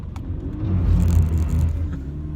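A 2019 Toyota GT86 engine drones steadily as the car drives a winding mountain road, a loud, close low rumble that swells slightly mid-way without any talk.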